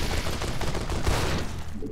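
Shotgun blasts and gunfire in the video game Pandorium Survivor, a dense, loud barrage of overlapping shots with no talk, easing slightly near the end.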